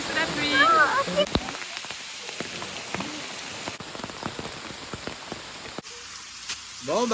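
Heavy rain pours down in Guatemala, a dense, steady hiss of drops striking surfaces close by, with a short voice at the start and end over the downpour.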